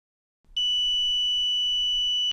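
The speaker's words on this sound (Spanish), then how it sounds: "Escuchamos un pitido, eso quiere decir que hay continuidad." A steady high-pitched electronic beep from a multimeter continuity test on HVAC wiring starts abruptly and holds continuously for nearly two seconds, clear and close, with no talking.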